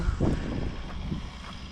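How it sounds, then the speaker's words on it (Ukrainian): A tractor pulls away across a farm field during sunflower sowing, its low engine rumble fairly faint and fading, mixed with gusty wind buffeting the microphone. "он пішов, пішов трактор"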